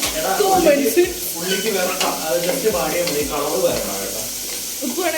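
Onions sauté in a pan with salt, giving a constant close, crackling sizzle and hiss. A voice talks over the frying.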